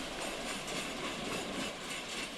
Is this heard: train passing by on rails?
yes